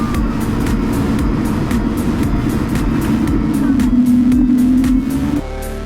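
Air France A220-300 jet taxiing onto the runway for takeoff, a steady cabin engine hum with a rising whine, then a sudden drop near the end, heard from inside the cabin.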